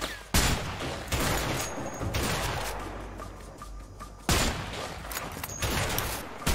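Heavy gunfire in the action game A Way Out, including shotgun blasts, with two sharp loud bursts opening a dense, continuous crackle of shots and rumbling echoes.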